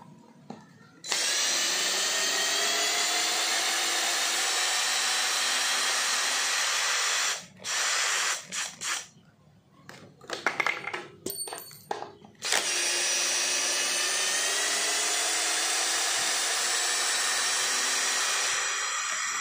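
A Worksite CD334H cordless impact drill whines loudly and steadily for several seconds driving screws, stops briefly with some clattering handling noises, then whirs again in a long sustained run.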